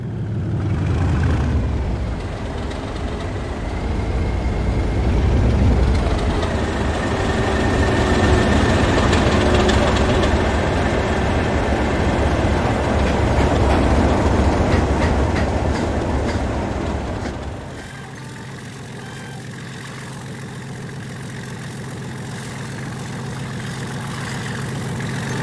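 Class 37 diesel locomotive 37429 hauls a train after changing ends, a loud, sustained diesel roar with rail rumble and clatter that drops to a quieter idle-like throb near the end.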